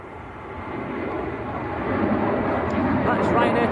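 Ryanair jet airliner departing Manchester Airport for Madrid on a windy day, a steadily rising engine roar that grows louder throughout the short span.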